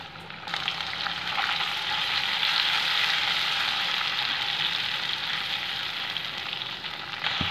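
Ginger garlic paste frying in butter and a little oil in a kadai, a steady, close sizzle that holds evenly from start to finish with no talking.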